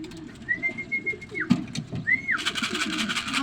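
Pigeons at a home loft, with two clear, drawn-out whistling calls over a steady low murmur of cooing and fluttering, plus a sharp knock midway through.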